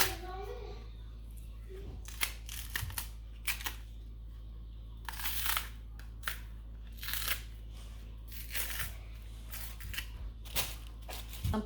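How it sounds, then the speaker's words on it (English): A knife cutting peeled green plantain into pieces for porridge, a series of crisp chopping clicks at an uneven pace, close and fairly quiet, under a person talking. "you then go ahead and cut it into nice sizes"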